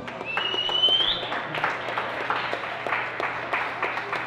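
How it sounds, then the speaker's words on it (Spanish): An audience at a cultural event applauds briefly, scattered claps at moderate volume over a low steady hum, with a faint voice mixed in. "Un aplauso, por favor."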